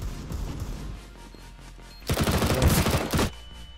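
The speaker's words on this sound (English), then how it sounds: "It's another flashbang." A flashbang grenade in CS:GO bursts loudly with a roughly one-second blast of harsh noise that stands out above quieter, scattered game sounds before and after.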